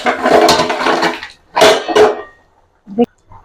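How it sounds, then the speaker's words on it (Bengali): Hot water spills out of a cooking pot in a home kitchen where broiler chicken curry is being made: two loud bursts of gushing splash, then a short clatter, with voice sounds mixed in. "ওই হাঁড়িতে গরম পানি ছিল, গরম পানিগুলো পড়ে গিয়েছে"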